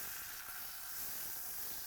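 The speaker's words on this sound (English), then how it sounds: "You can hear it sizzling." Butter sizzling in a hot pan with chili while beef kababs are being made: a steady, bright hissing sizzle, continuous and fairly close, with no talk over it.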